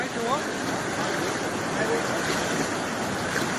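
Strong floodwater rushes through Baleshwar village near Surat during heavy monsoon rain, a loud, unbroken roar of churning water close by, with voices faintly underneath.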